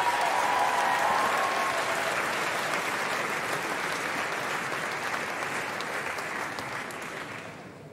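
Sustained audience applause at a school house music concert as the conductor comes on stage, steady and full at first, then slowly thinning and fading toward the end.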